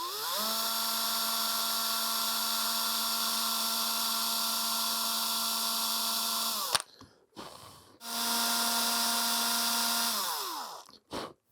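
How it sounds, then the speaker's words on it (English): A high-pitched rotary tool whines steadily as it drills into a small figure's head, running for several seconds, stopping briefly, then spinning up again and winding down. "Now we drill carefully."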